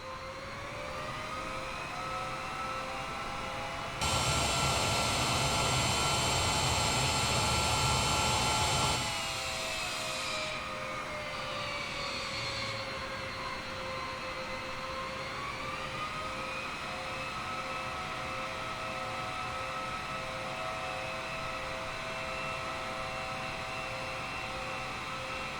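Air India Boeing 787 Dreamliner jet engines spooling as the plane departs, a loud broadband roar surging for several seconds, then settling into a sustained whine with shifting tones heard from inside the cabin.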